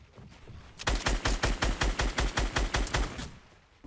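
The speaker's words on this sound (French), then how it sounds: "quelqu'un essaie de me sniper" Rapid burst of gunfire in the video game Fortnite, roughly a dozen sharp evenly spaced shots, loud and close, with no talking.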